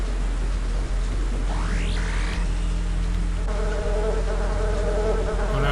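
Persistent insect-like buzzing of mosquitoes in the video game Daikatana, a steady droning hum with rising whines sweeping through, loud and continuous, with no voices.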